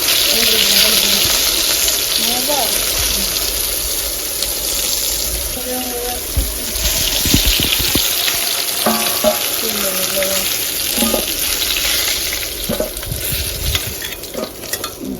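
Fish frying in hot oil with ginger and cumin paste in a home kitchen, a loud continuous sizzle with stirring and clinks of utensils, with people talking faintly in the background.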